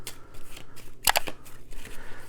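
Playing cards flipped over on a table during a board game of Purim, a brief cluster of crisp papery snaps near the middle over a quiet room.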